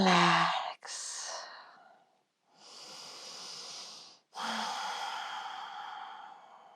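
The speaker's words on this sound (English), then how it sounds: "Breathing here." Deep breathing during a mother-and-child partner yoga session: long, loud, close exhales and inhales, breathy and hissing, separated by brief pauses, with no words spoken.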